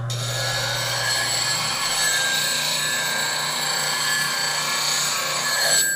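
A spindle roughing gouge being sharpened on a grinder, a steady bright grinding hiss that runs without a break, close and fairly loud.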